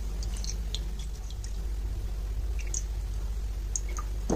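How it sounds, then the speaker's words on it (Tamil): Ground herb paste for a homemade natural hair dye is strained and squeezed through a fine cloth, giving soft wet squishing and dripping over a constant low background hum. "இப்போ நல்லா வடிகட்டி புளிஞ்சு எடுத்துக்கோங்க."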